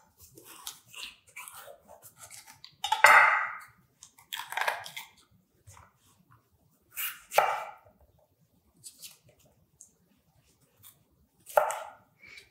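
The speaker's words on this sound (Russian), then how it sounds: "Его мы для этого салата нарежем соломкой." A knife slicing sweet bell pepper into thin strips on a cutting board, giving short crisp cuts in irregular bursts, close and clear, with quiet pauses between strokes and no talking.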